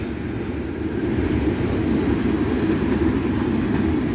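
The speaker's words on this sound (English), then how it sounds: "This train is actually coming back to the yard now" A freight train with gondolas and rock hopper cars rolls along the track toward the yard, giving a steady, heavy rumble with dense low-end roar and no breaks over a few seconds.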